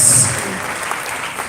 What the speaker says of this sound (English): Let's give our president a sound round of applause.